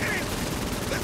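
A brief, dense burst of rapid rifle fire from the video game Saints Row IV crackles steadily with no pause, fairly loud, beside a player's voice.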